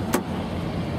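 Central locking on a 2009 Nissan Versa engages with a single short, sharp clunk near the start, then only a steady low hum in a quiet setting.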